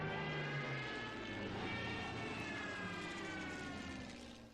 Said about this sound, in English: We'll put the Stuka on it.